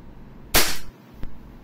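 A single sharp shot from an AW Custom HX 2003 airsoft pistol firing 0.20 g BBs through a chronograph, a loud close pop followed by a faint click.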